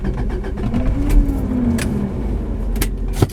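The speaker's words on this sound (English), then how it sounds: "I got my key to my car here, so let's go ahead and start her up" A car engine is started with a key, with light key clinks and a crank that settles into a steady idle. The sound is close, loud and continuous, with no voices.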